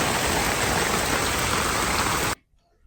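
Heavy rain pours down in a dense, steady hiss close by, then stops abruptly near the end, leaving near silence.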